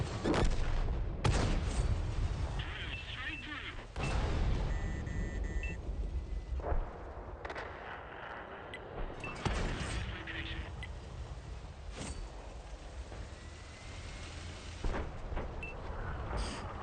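Double artillery shells firing from a tank in a tank video game: several heavy booms and blasts with long rumbling tails, spaced a few seconds apart, mixed with small interface beeps and a voice talking over them.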